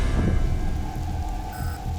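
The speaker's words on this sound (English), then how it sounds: "During a summer storm 5 years later, lightning struck yet again." A summer thunderstorm, with a deep rumble of thunder rolling under steady, dense rain hitting surfaces, loud and close throughout, with no voices.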